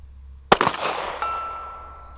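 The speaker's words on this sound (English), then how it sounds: "I'm shooting a nine mil, okay?" One nine millimetre handgun shot is fired at targets outdoors: a single loud, close crack at once, followed by a short rattling echo and a long fading ring.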